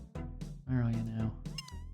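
A black cat in the Old School Runescape game meows a few times, short tonal calls rising and falling, with game background music and sounds running beneath.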